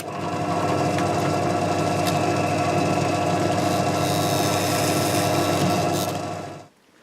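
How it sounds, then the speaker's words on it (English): A drill bores small holes in a wooden fretboard for glow-in-the-dark inlays, whirring in a steady close buzz for about six seconds before stopping abruptly. "we're going to drill some holes about the same size that we would do fretboard markers"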